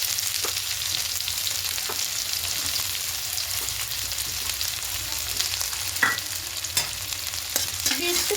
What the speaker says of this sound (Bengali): দিয়ে একটু হালকা করে ভাজার দরকার, একটু নাড়াচাড়া করে নিলাম